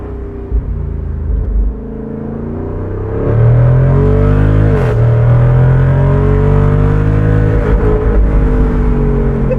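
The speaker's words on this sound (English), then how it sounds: "you can hold the left paddle and it'll just downshift all the way" A 2024 Jeep Wrangler 392 V8 downshifts through its gears, the deep engine rumble rising in pitch with each blipped shift, loud and close from inside the cabin with no talking.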